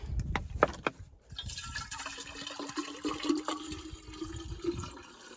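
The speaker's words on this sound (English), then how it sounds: "Put me some water here." Water is poured from a bottle into a drinking canister on a solo hike in the Wichita Mountains, a steady close trickle and gush of liquid lasting several seconds after a brief knock, with no talking.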